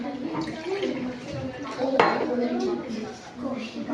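A glass of water handled on a classroom table during a simple science demonstration, with clinks and light knocks of glassware under a teacher's voice and children's chatter, including one sharper clink.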